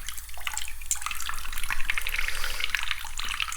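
Running tap water splashes steadily over a silver coin as it is rinsed, a close, moderate hiss of flowing and dripping water with no talking.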